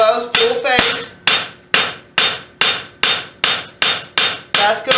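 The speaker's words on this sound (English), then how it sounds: "flat face hammer blows, full face" Flat-face hammer blows shaping a steel rose leaf at the forge: about eleven sharp, ringing metallic strikes in a steady rhythm, close and loud, each decaying quickly, with no talk.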